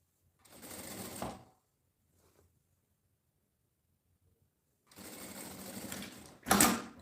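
Sewing machine stitching a fabric lining, two close bursts of fast mechanical whirring separated by a quiet pause, the second ending in a sharper, louder run.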